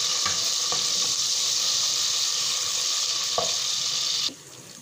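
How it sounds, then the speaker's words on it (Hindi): Garlic-ginger paste sizzles and fries with onions in a pan as a spoon stirs it, a steady close hiss with a few scraping knocks before the sizzle suddenly drops off near the end. "अब हम इसको चलाएंगे ताकि हमारा लहसुन जो है वो प्रॉपर तरीके से प्याज में जज हो जाए।"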